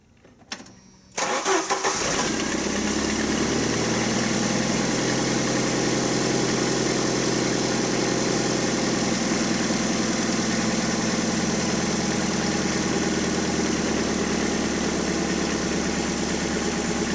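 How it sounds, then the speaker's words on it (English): A Jeep engine cranks briefly and catches, then settles into a loud, steady idle that runs on for many seconds, close up and with no one talking. "Ryan, can you go ahead and crank that on real quick?"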